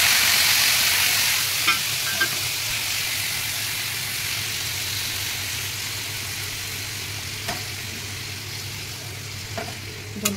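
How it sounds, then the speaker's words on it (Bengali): Loud, steady sizzle of spice masala frying in a hot pan as hot water goes in, a broad hissing roar that slowly eases over time, with a few scattered clicks and pops. "এর মধ্যে আমি গরম জল অ্যাড করে দেবো।"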